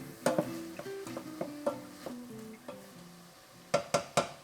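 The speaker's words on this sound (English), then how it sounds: "I will give this a stir." A spoon stirring garlic with pepper in a soup pot for broccoli cheddar soup, making a series of close, light scraping and clinking knocks in an uneven rhythm, ending in three sharper taps.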